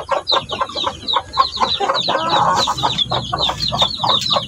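A broody farm hen suited to sitting on eggs, kept with her many chicks, clucks loudly and repeatedly in quick bursts, with high chirping mixed in and no talking.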